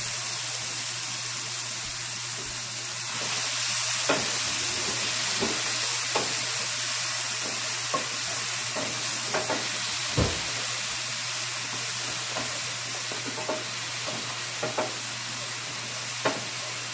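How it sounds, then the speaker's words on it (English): Tomatoes with basil simmer in a pan, making a steady hiss and bubbling over a low hum, with scattered clicks and scrapes of stirring over roughly seventeen seconds and no speech. "I'm going to let these simmer for about, 5 minutes or so"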